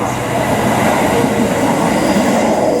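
Train arriving at a station in Nagoya, with a steady, loud rumble of rolling rail cars filling the space and no voices.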